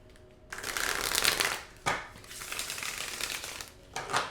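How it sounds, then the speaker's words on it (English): Tarot cards are shuffled in steady, riffling bursts, close and fairly loud, with a brief pause in the middle and a short final burst at the end. "Let's get your tarot cards out"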